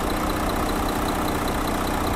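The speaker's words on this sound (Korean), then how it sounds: "엔진 소리 일정하네요." An Infiniti Q70 3.0 diesel car engine idles steadily and evenly up close, a low continuous rumble with no revving or other sounds.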